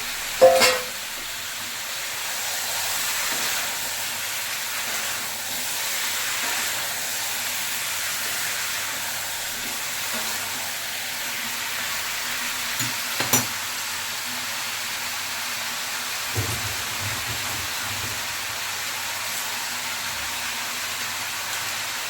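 Chicken pieces going into a pan for a lemon chicken stew, a steady soft sizzle and hiss of frying that runs under faint kitchen clatter, with a few brief knocks near the start and middle.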